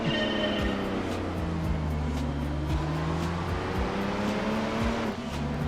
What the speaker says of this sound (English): 50 mile an hour in first gear, but listen to how quick the changes are